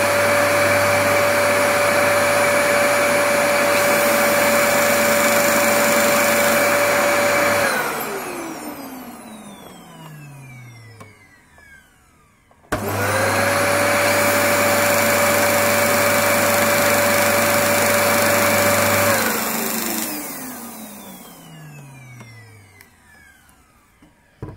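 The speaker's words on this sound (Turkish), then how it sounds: "Şimdi bir de süpürgeyle deneyelim. Elektrikli süpürge." A household electric vacuum cleaner runs twice, each time a loud steady whine for several seconds before the motor winds down in a falling tone, with no voices.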